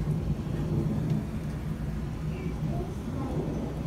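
A severe thunderstorm in southeast Michigan, heard as a steady, dense rush of rain with low rumbling underneath, constant and fairly loud throughout.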